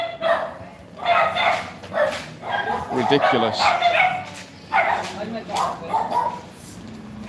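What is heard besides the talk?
Scottish Terriers barking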